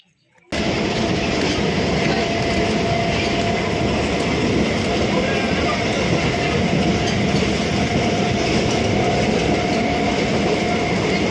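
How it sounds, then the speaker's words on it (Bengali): A train passing through a station rumbles loudly and continuously close by, with steady rattling wheel noise and a faint high whine, starting abruptly after a brief silence. "ট্রেন চলে গেল আমরা আমাদের ডেস্টিনেশন পৌঁছে গেছি আর ট্রেন চলে গেল"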